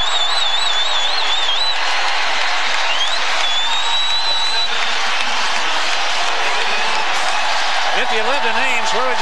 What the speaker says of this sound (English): Listen to the crowd in Hilton.